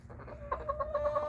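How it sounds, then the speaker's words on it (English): A rooster calls close by in a brief, harmonic burst of rising, clucking notes, loud and alone with no talk. "I hope everybody enjoys the sound of a rooster."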